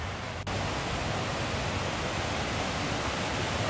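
Waterfalls in the Lauterbrunnen valley, Switzerland, among steep mountains, give a steady, dense roar of falling water that fills the whole stretch, continuous and even apart from a brief dip near the start.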